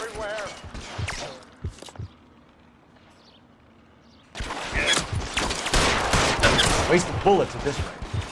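Rapid gunfire bursts in the game L.A. Noire, dense and loud over the second half after a quieter stretch, mixed with game voices and shouts.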